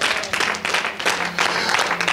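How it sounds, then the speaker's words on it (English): Church congregation clapping hands during a sermon at a miracle and prophetic conference, a dense sustained patter of many hands filling the hall for about two seconds, with some crowd voices mixed in. "Are you clapping your hands?"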